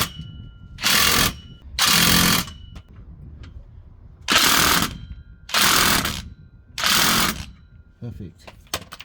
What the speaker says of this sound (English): then we'll use the impact wrench on it